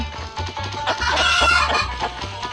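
Several chickens cluck and a rooster crows in the game Stickman Party, the calls overlapping over a steady low electronic hum and rhythmic bass thumps.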